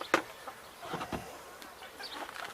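Backyard urban-farm chickens cluck softly in a few short, scattered calls, faint and fairly close, with a louder squawk at the start.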